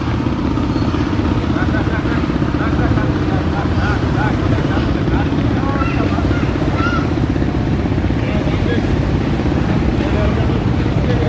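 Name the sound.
passenger launch MV Bogdadia 7 travelling at speed on river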